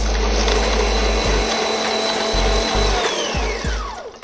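An electric mixer runs at its highest speed, beating sugar with margarine and butter in a bowl for a marble cake; a loud, steady motor whine continues throughout, with a few brief dips.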